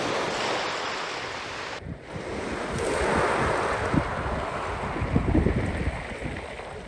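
Waves of an incoming tide rushing in over a beach, a continuous wash of surf heavily mixed with wind noise buffeting the microphone, steady and fairly loud with no talking.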